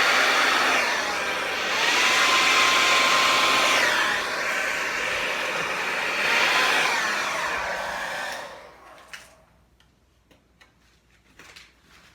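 A hair dryer blows with a loud, steady whoosh over paint, its pitch wavering slightly, then it switches off, leaving faint ticks and small clicks.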